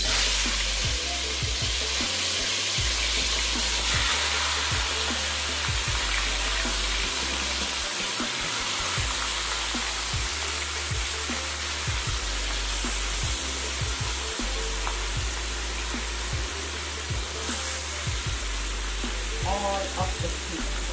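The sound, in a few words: oxtail meat with seasoning put into pot, cooking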